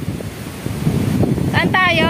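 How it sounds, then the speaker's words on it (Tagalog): Strong wind on Manila Baywalk buffets the microphone with a steady low rumble, and a voice speaks briefly near the end. "Ang lakas ng hangin."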